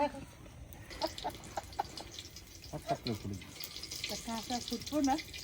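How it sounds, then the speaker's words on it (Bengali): Green peas fry and pop in a pan at a winter-evening village snack session, a steady crackling sizzle running beneath people talking nearby. "ছেলে মটরশুঁটি দিয়ে বুনবুন ভেজে দেবে, পটপট করে ফুটছে মটরশুঁটি গুলো"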